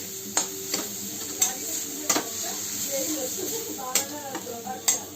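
Bread chilli mixture stirred in a pan, a spoon scraping and knocking against the metal in regular strokes about once a second over a soft sizzle, close by, with some quiet talk.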